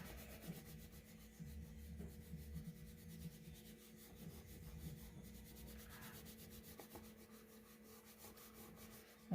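A crayon rubbing across paper while drawing a self portrait, a soft, quiet, continuous scratchy scraping with small strokes, close and alone without talk.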